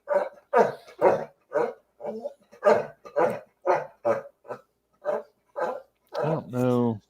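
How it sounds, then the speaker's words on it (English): A dog barks excitedly in a repeated series of sharp, evenly spaced barks, ending in a longer whining yelp, fairly close and without talk. "My dog is going crazy right now."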